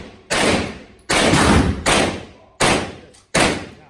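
Semi-automatic firearm fired during a training session on a shooting line: four loud, sharp shots spaced unevenly about a second apart, each cracking sharply and ringing out with a decaying tail.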